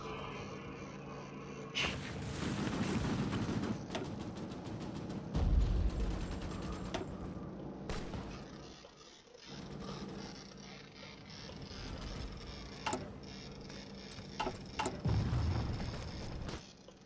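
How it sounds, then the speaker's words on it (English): Bombing and gunfire in the strategy game Hearts of Iron IV, with muffled explosions and scattered clicks and bangs over a continuous low rumble, moderately quiet. "So we're getting some bombing in on them at least."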